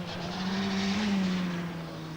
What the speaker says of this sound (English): This is Dave Metcalfe in the Vauxhall Astra